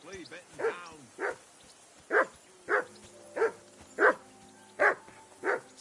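A dog in Kingdom Come: Deliverance 2 barks in a steady series of about nine sharp, close yelps, with an early whimpering whine and a faint tonal hum underneath.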